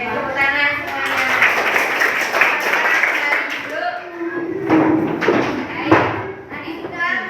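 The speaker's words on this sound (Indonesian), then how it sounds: "Oke, tepuk tangan semuanya." A classroom of children clap their hands together after a teacher's prompt, a dense burst of overlapping claps mixed with chatter and voices, fading into scattered taps and talk.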